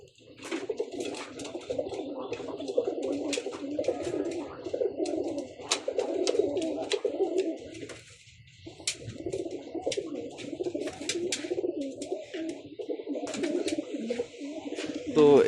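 Pigeons cooing inside a small, crowded pigeon house, a dense chorus of overlapping soft coos with occasional wing flutters and clicks, close by and continuous, pausing briefly near the middle.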